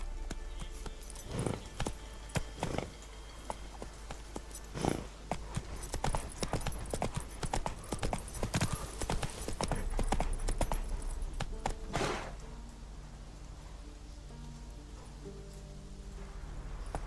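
Horse hooves clip-clopping in The Witcher 3 video game, a steady rhythmic trot up close that fades toward the end.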